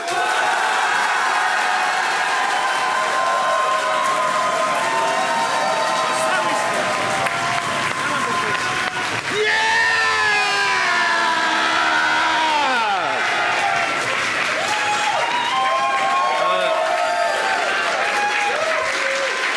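A studio audience breaks into sustained, loud applause with cheers and whoops as a team called The Boys is welcomed onto the stage of a comedy battle show, the clapping steady throughout while a voice speaks over it partway through.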